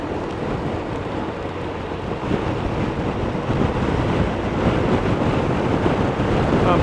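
Strong wind buffets across an exposed stretch of country road lined with hedges, a loud, steady roar that swells gradually in gusts, with no voices.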